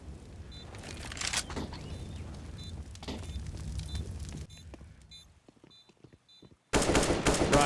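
Rapid automatic gunfire in a Counter-Strike match, bursts of shots over a continuous game ambience, with a brief lull before a loud final volley.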